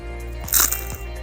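A single sharp crunch as teeth bite into a crispy fried egg roll topped with spicy squash sauce, close and brief, with a short crackle after the bite.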